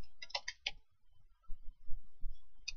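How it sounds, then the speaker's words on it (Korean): Quick clicks from a computer keyboard while programming a Siemens PLC, a short cluster of keystrokes followed by soft low rustling and one more click, close and quiet. "키보드가 잘 안 먹네요."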